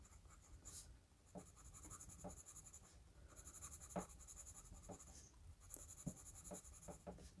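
A Moon Products pencil, comparable to a No. 2 or soft B grade, scratches across paper in close, dry strokes with short taps and pauses between lines of writing, no voices.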